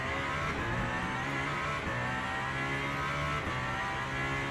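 Race car engine in the Le Mans Ultimate racing game at the Le Mans circuit with no chicanes, a loud, sustained high-revving drone with steady pitch and slight rises, heard alone.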